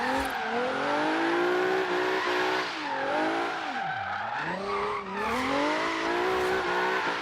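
A car drifts in the Forza Horizon video game, its engine revving steadily while the tires squeal through a long slide, the pitch dipping and rising again as the back end steps out. The sound is loud and continuous, with no talk.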